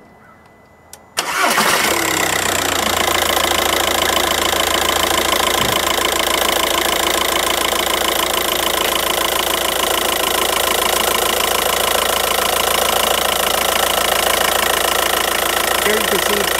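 A VW Audi TDI diesel engine, running on diesel purge fed through its injectors, cranks and catches after about a second, then settles into a loud, steady, clattering idle that continues to the end.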